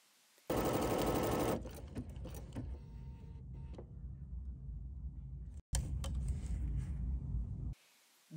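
A Bernina 790/880 Plus sewing machine stitches taper stitches over an ornament design, giving a fast steady mechanical whir with rapid needle chatter. The whir runs continuously, pauses briefly, then starts again before stopping, with no talking.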